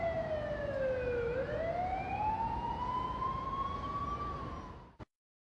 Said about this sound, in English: police car, or fire truck is behind you with their lights and siren activated